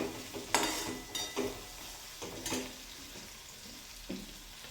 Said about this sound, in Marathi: थोडासा तेलात परतून घ्यायचा आहे पाणी वगैरे काहीच टाकायचं नाही